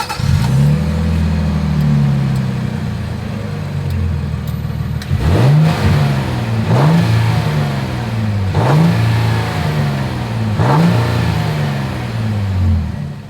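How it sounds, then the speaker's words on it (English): A 2025 Nissan Armada's exhaust and engine rev repeatedly, a steady idle burble broken by about five sharp throttle blips with falling decay, loud and close with no talk. "As always, here is that exhaust clip."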